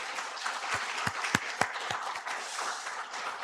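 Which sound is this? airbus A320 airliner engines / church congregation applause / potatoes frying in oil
church congregation applause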